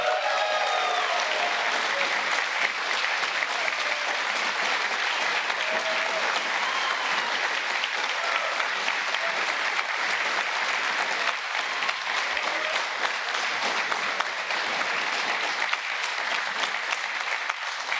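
A large rally crowd at a Donald Trump campaign speech breaks into long, loud, continuous applause that holds steady throughout without any speech on top.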